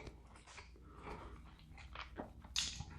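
Someone chews 90-second keto bread made with almond flour and spread with ghee butter, with quiet, close bites and soft mashing sounds and a brief louder crunch toward the end.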